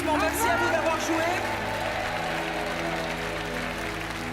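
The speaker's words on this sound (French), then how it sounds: "On vous laisse repartir sous les applaudissements." Studio audience clapping on a French money game show as the contestants leave, starting louder with a few sharp accents then settling into a steadier, slightly softer applause under faint musical tones.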